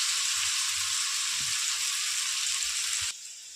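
Vegetables frying in oil with a steady, bright sizzle that holds evenly, then drops to a quieter hiss near the end.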